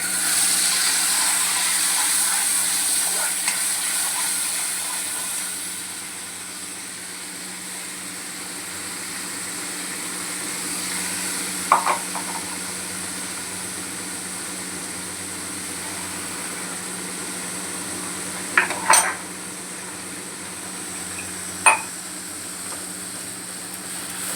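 Ground coconut masala paste frying with reddened garlic in a pan for a Konkani surmai curry, giving a steady soft sizzling hiss with a few brief clinks of a utensil.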